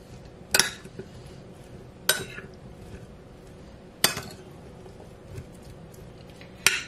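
Ingredients for a nopal salad with chopped jalapeño or serrano chile and pepper are stirred in a bowl, with four sharp clinks of a utensil against the bowl spaced a couple of seconds apart over a soft scraping bed.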